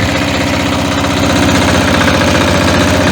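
A Motor Sich MB-9DE walk-behind tractor engine runs steadily up close, a loud, fast, evenly pulsing chug with a rough mechanical rattle throughout.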